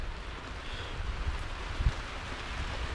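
Heavy rain pours outdoors at night, a steady broadband hiss with low rumbling from wind and drops striking the microphone, continuous and fairly close with no talking.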